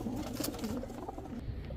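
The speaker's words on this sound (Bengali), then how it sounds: "এখন দেখাবো এক জোড়া সিলভার কবুতর" A pair of silver pigeons coos softly in a low, rolling rhythm, several throaty coos in close succession, fairly quiet and with no talk over them.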